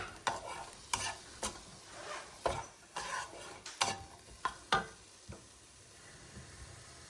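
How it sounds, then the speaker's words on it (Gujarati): Tofu, pepper, onion and garlic sautéed in a pan, with a spoon stirring and scraping in a steady run of knocks and scrapes over a soft sizzle, close and alone. "હવે આ બધી જ સરસ મિક્સ કરીને આપણે સોતે કરવાનું છે."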